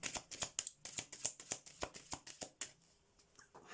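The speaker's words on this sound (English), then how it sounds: "Let's shuffle again." Rapid riffling of a deck of tarot cards, a quick series of crisp flutters, then a pause and one more short riffle, close and clear.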